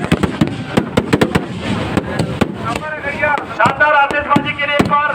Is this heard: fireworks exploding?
yes